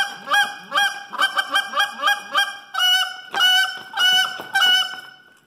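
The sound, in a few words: goose call being blown, basic notes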